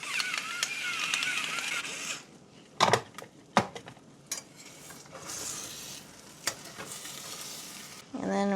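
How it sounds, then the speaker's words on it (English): Eggs sizzling in a hot frying pan as a utensil stirs and scrapes the bottom, with soft steady frying under sharp scraping clicks and knocks, close and fairly quiet, with no talking. "And then we're just gonna pull it around. Trying to scrape the bottom. Hopefully the eggs don't stick."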